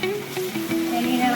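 Onions, crushed shallots, green chillies and crushed garlic frying in a pan for a beef curry, a steady close sizzle with faint crackle throughout.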